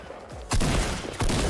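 Gunfire in the Fortnite battle royale video game: a rapid burst of loud, close shots in two clustered volleys over about a second and a half, with no talking.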